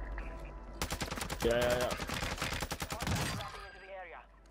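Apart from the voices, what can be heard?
gunfire in the video game Warzone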